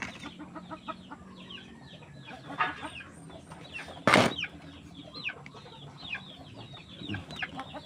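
Several chickens cluck and chatter in a busy yard, with a rooster's louder call rising briefly in the middle over a steady hum of farm activity.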